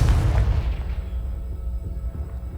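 A Confringo spell blast in Hogwarts Legacy booms out loud and low at the start, then a dense rumbling tail fades over a couple of seconds with no voices.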